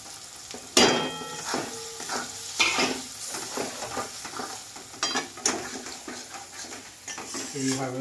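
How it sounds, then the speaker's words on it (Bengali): Masala for mutton curry sizzles in a pan while a metal spoon scrapes and clanks against it in repeated stirring strokes, close up, with a brief spoken word. "এইভাবে এবারে চালাবো আর কিছুক্ষণ পর্যন্ত আমি ভাজবো।"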